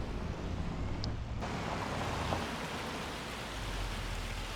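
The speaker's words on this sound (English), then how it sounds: "Still looks like rain to me." Rain in the farming video game Farming Simulator 25, a steady dense hiss of falling rain with a low rumbling undertone, loud and continuous with no talking.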